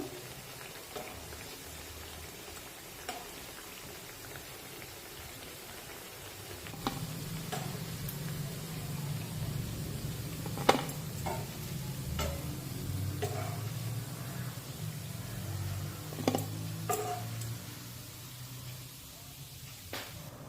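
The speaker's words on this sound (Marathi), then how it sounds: "आणि अशाच पद्धतीने बाकीच्या ज्या वड्या शिल्लक आहेत त्यासुद्धा तळून घेऊ" Cabbage vadi (kobichi vadi) shallow-frying in oil in a pan, a soft continuous sizzle that swells after a quiet start, with scattered light pops and utensil ticks throughout, faint and close.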